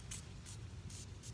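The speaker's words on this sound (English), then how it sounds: "just give it a good spray" A spray bottle mists garden plant leaves to ward off pests, giving four short, soft hissing bursts evenly spaced across a quiet background, close and faint.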